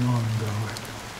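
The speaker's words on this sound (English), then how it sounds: "How long has this rain been ongoing?" Rain falls steadily in the Honkai Star Rail video game, a soft, even patter and hiss. A low voice sounds briefly at the start.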